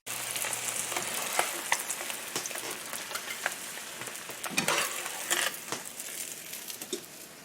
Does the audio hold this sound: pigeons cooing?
no